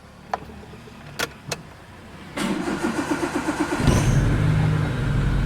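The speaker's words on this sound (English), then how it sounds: "after I start the car, it starts to jerk or hesitate as if it's finding it difficult to breathe" A Maruti Esteem car engine clicks a few times, then cranks with a rapid pulsing churn before catching and settling into a loud, close, slightly uneven idle. No voices are heard.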